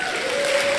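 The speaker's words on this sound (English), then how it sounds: "Round of applause." An audience applauds during a podcast roast, a brief, dense, steady wash of clapping with a faint tone running underneath.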